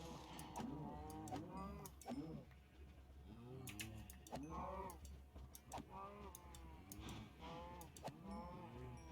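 Cows in the Minecraft video game give repeated low moos, several calls one after another at a steady pace, with small clicking sounds scattered between them.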